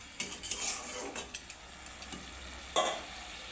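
A metal lid goes onto a cooking pot with a few light clinks and scrapes, close by, ending in one sharper clatter as it settles, over a faint simmer.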